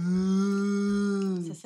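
A person imitates a goat's bleat but it comes out as a cow-like moo, one sustained, loud, near voiced call lasting over a second before breaking off.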